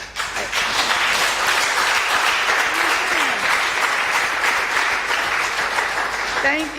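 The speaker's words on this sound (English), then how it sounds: "The only thing you can give is this round of applause you give." Audience at a court induction course applauding presenters, a full, sustained round of clapping from a seated room, with faint voices near the end.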